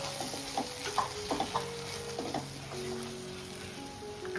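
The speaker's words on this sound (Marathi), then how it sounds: "चला आता आपण हळद टाकू मिक्स करून घेऊ मसाले" Turmeric and ground spices such as garam masala and coriander powder being stirred in a pan for drumstick-leaf bhaji: a soft sizzle under scattered scraping taps of a spoon, fairly quiet and close.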